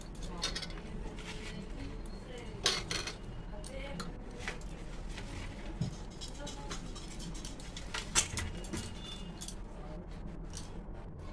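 Raw mango pieces are tossed with pickle spices in a pot, giving soft scraping and occasional clinks of a utensil against metal, fairly quiet, with a person talking throughout.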